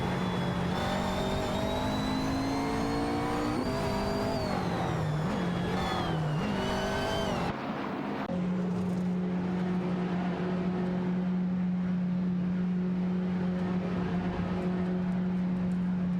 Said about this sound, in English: The virtual engines are roaring as Feds and Paula Kostanang are confidently